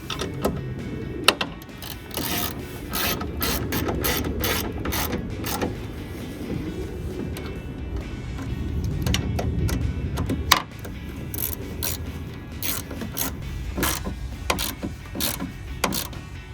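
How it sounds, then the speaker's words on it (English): Ratchet driving the two bolts back in while refitting a Morimoto XB LED taillight with black housing on a 2016-2023 Toyota Tacoma, giving close, repeated clicking bursts in an irregular rhythm over steady mechanical background, with no talk. "take the 2 bolts from before and screw them back in"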